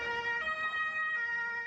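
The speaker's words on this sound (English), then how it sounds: "Ambulances rushing to the scene" Ambulance siren wailing with a steady rising and falling tone as ambulances rush to the scene of a vehicle attack near a parade route in Berlin, loud and close over faint road traffic, with no voices.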